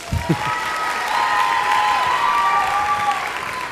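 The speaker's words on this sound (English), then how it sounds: "Everybody clap for Reagan Jones." A crowd at a high school athlete signing day claps steadily for a few seconds, the applause dense and even throughout with a faint murmur of voices underneath.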